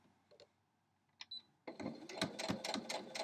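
A sewing machine stitches a quilt block, starting after a few small clicks and then running in a fast, steady, close whir with rhythmic pulses.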